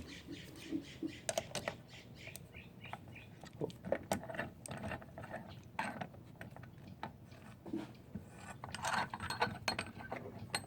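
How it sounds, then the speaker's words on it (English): A ratchet wrench with a 9/16 socket tightens a nut on a GY6 157QMJ scooter engine, giving repeated close clicking bursts with metallic taps and handling noise, no speech. "This takes a 9/16 socket to tighten this one down, so let's go and tighten it down."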